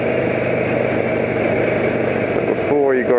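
A loud engine runs steadily at raised revs as the throttle is opened, with a dense, continuous drone that shifts in pitch near the end.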